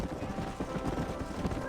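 Hooves clip-clop at a steady walking pace in Red Dead Redemption, faint and muffled under a low ambient bed with a voice talking over them.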